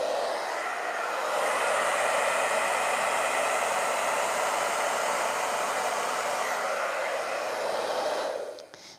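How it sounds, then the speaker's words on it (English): A hair dryer runs on its low setting, a steady, close whooshing roar of blown air that holds evenly for about eight seconds before cutting off at the end. "Hair dryer on low."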